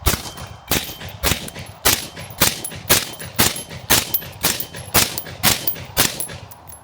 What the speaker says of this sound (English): I'm just gonna start shooting into the berm, at the target.